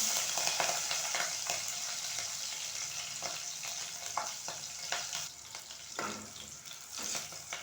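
Green chillies sizzle in hot oil as the start of a chicken curry, a constant crackling hiss broken by repeated stirring scrapes and taps, moderately faint.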